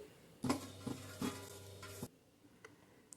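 A spoon or spatula stirring gram flour batter for motichoor laddu in a pan, with a few rhythmic scraping, clinking strokes over about two seconds, then quiet, close and faint.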